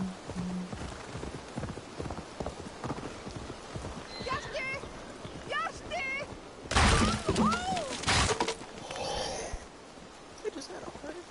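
A horse's hooves clip-clopping in a steady gallop in the Assassin's Creed Valhalla video game, rhythmic and fairly close, with a loud crash of something breaking partway through and a person talking over it.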